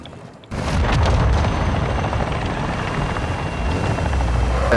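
A military helicopter in Call of Duty DMZ roars loud and close with a steady chopping rotor drone that holds throughout, no voices heard.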